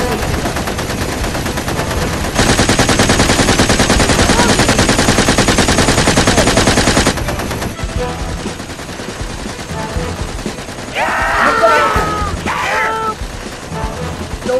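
Rapid sustained machine-gun fire from a Lego zombie animation, a loud dense burst lasting several seconds over a noisy battle background, followed by shouting voices.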